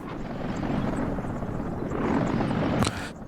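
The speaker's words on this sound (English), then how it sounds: "We also have a helicopter bringing in food for the shopping center here" Continuous rotor drone of a food-delivery helicopter in Workers & Resources: Soviet Republic, a steady mid-level whir that swells slightly toward the end, with no one speaking.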